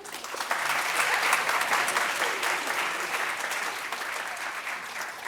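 An audience claps steadily throughout a magic lantern show lecture, the sound swelling early then easing slightly, moderately distant with no talk over it.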